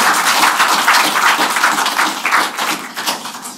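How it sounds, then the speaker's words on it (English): Audience applause for a panel of alumni at a university association event, steady dense clapping from a crowd, close and fairly loud across the whole moment. "Can you just give them a round of applause?"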